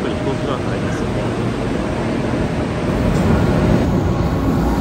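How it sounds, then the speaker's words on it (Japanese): A train rumbling into a busy station platform in Cairo bound for the airport, with a loud, steady roar and hiss, crowd noise blending into the constant din. "列車もちょうどやってきました。"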